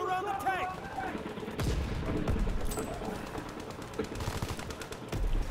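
Gunfire in Call of Duty: WW2, with a farmhouse and a log wall nearby, heard as rapid shots and bursts of varying loudness mixed with in-game sounds and someone talking.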